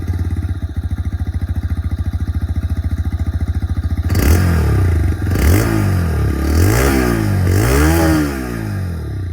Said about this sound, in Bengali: তাহলে চলুন দুটোরই যে এক্সস্ট সাউন্ড শুনিয়ে দিই আপনাকে। স্টার্ট করি এখানে উইথ